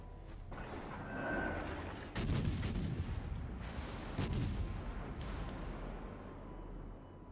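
Warship guns firing in the naval game World of Warships: Legends, a rolling rumble of distant booms broken by two sharp, heavy cannon blasts, moderately loud with no talking.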